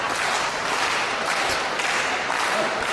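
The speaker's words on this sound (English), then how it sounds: "The crowd getting pumped up." Spectators at a wrestling match in Canada roar and cheer in a broad, continuous wash of crowd noise, fairly loud and steady.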